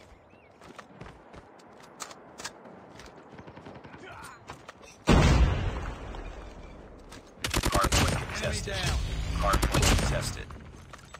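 Gunfire in the Call of Duty Mobile multiplayer Hardpoint mode: soft footsteps and scattered shots give way to a loud close blast, then a sustained burst of rapid automatic fire, with a game announcer's voice speaking briefly.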